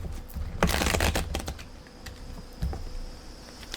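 Tarot cards are shuffled in quick riffling bursts, soft and close, with a couple of brief flurries separated by quieter handling, no voices.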